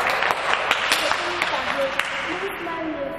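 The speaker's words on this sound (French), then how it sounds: "On l'encourage, on applaudit pour elle." A small group claps for a pupil during a guided visit: quick, scattered handclaps running throughout, fairly close, mixed with light background voices.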